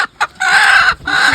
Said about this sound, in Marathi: बघा ही कोंबडी आली बघा